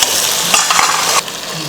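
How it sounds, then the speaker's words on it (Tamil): Sambar vegetables, including beans and brinjal, sautéing in a hot pan: a loud, close, continuous sizzle with stirring scrapes, easing off slightly near the end, no speech. "சேர்த்துட்டு நல்லா வதக்கிடலாம்."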